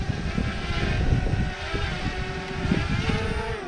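A DJI Mavic Mini drone comes in to land, its propellers keeping up a steady, fairly loud high-pitched whir throughout, with small pitch shifts as it descends.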